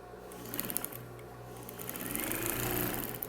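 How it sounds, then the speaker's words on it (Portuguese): A sewing machine stitches a folded fabric seam, a close motor whir with rapid needle ticking that speeds up and hums more steadily toward the end, no talking. "e vou dobrar assim na costura."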